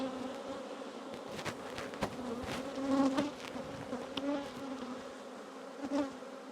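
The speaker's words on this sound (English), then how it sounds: "that colony's had a lovely load of bees." Honeybees hum in a steady, close drone from a colony, several insects buzzing at once with small swells in loudness.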